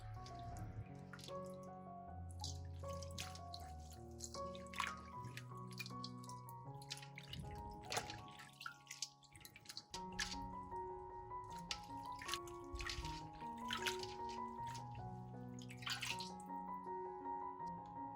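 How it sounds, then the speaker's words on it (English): Fresh cilantro rinsed in clean water in a sink or bowl, with a steady run of drips, splashes and trickling water throughout, close and continuous with no talking. "rinse the cilantro with clean water"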